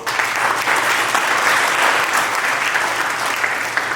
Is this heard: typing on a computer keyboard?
no